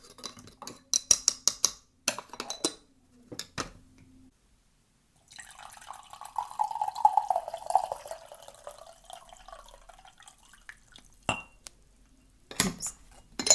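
Freshly brewed green tea is poured in a kitchen, starting with clinks of a cup and utensils, then a steady splashing trickle of liquid, followed by a few more clinks; no talking.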